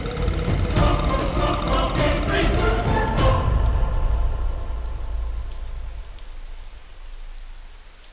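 Rain pours in a movie scene, a dense, close hiss that is loudest at first and then thins to a softer, more distant patter, with voices faintly present.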